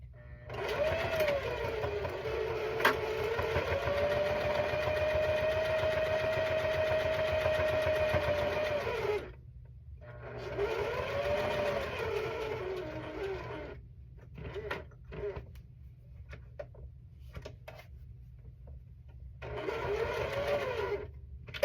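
A sewing machine back stitches a quilt block in quick whirring bursts. A long steady run is followed by several shorter stops and starts, with quiet gaps between them.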